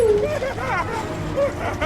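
A dog yips and whines in the soundtrack of the film How the Grinch Stole Christmas, a few short high cries mixed with voices and other film sound.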